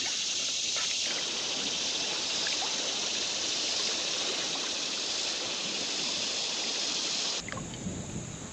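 A creek flows in a steady, close, broadband rush of water, with a faint insect drone above it, heard while fishing. The flow continues alone until the sound shifts near the end.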